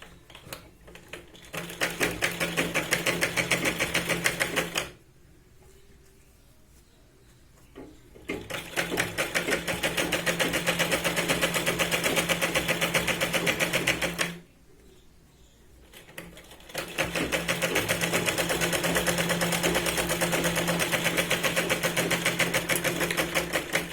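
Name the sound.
sewing machine stitching a katori blouse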